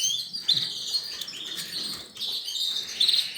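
Canary chicks in breeding cages chirp in thin, high, repeated peeps while being fed, a busy run of close begging calls with brief louder bursts.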